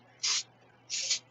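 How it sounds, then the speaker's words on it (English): Two short hissing bursts of canola non-stick cooking spray, about half a second apart, close and fairly quiet, with nothing else in between. "So I'm going to spray a little canola non-stick cooking spray,"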